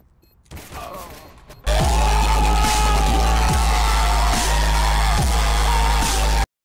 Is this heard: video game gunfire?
yes